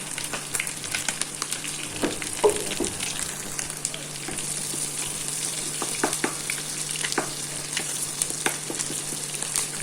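Garlic and onions sizzle in a pan, a steady crackling fry with scattered pops and stirring sounds throughout.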